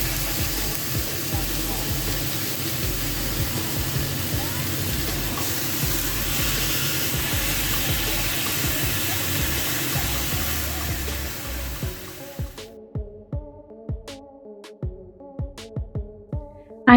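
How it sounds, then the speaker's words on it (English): Ribeye steaks sear in a dry pan over high heat with a loud, steady hiss. The sizzle drops away to quiet clicks and taps near the end. "I put my pan on high heat with no oil or anything. I just want to get these a really good sear."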